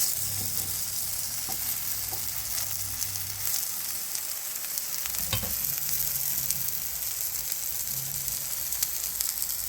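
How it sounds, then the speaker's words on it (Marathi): Spinach tikki frying in a pan over a low gas flame, a continuous soft oil sizzle with faint crackles and an occasional low thump. "कमी गॅसवर आपण ते चांगलं होऊ द्यायचं आहे छान, कारण ती टिक्की आतमधून चांगल्या शेकल्या गेली पाहिजे"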